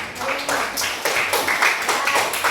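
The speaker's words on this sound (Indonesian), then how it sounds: "beri tepuk tangan dulu untuk teman-teman kalian yang sudah mau memberi kesimpulan" A classroom of students claps for their classmates, a brisk burst of many hands close by with uneven rhythm that swells and dips over a couple of seconds.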